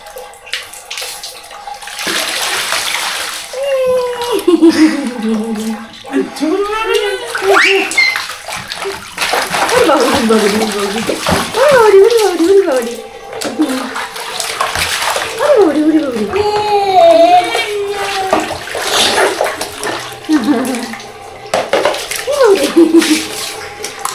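Bathwater splashes and sloshes in a tub as a child soaks a father, with bursts of splashing mixed with excited voices and laughter, close and fairly loud throughout.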